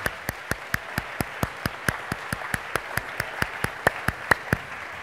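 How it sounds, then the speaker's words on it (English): A single person claps in a steady, even rhythm, about two dozen distinct claps. The claps are clear but not loud, and no crowd is audible, so it sounds like lone clapping rather than audience applause. "I think we all owe Jody a round of applause"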